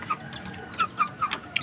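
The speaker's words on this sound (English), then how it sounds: "this is the mix between Burmese chicken and Thai chicken" A Burmese and Thai crossbreed chicken on a farm gives a few short, close clucks at irregular intervals, with faint ambient background noise.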